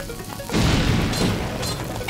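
A bomb going off in Zelda: Link's Awakening on Switch, a single close, loud booming crash that fills the space after a brief quiet moment and rumbles on briefly.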